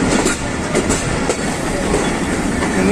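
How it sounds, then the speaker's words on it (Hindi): A Pakistan Railways Safari tourist train rolls into Rawalpindi station, its wheels clattering loudly and rhythmically over the rails with a dense, close rumble and faint squeal. "सफारी ट्रेन रावलपिंडी स्टेशन पर पहुंच रही है"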